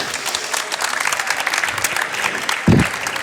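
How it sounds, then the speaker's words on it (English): An audience at a young entrepreneurs' pitch and panel event on sustainable futures applauds the panel, a continuous, even wash of clapping with a soft thump near the end. "please give them a big applause"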